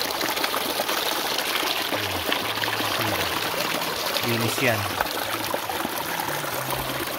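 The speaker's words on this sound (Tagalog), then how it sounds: "Grabe yung tubig. Ayun, nanggagaling sa ilalim ng batuhan." Clear spring water wells up from under rocks and flows in a steady, close trickle and gush in a remote mining area, with someone talking over it.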